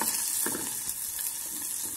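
Kale sizzles and crackles steadily as it toasts in a hot frying pan, a continuous close fry with faint stirring under it and no voices.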